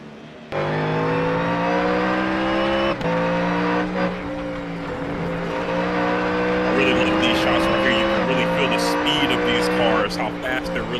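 Ford Mustang race cars in the Mustang Challenge GT series roar around a European circuit at roughly 140–150 mph, a sustained loud engine drone rising and falling through gear changes, with commentary voices talking over it throughout.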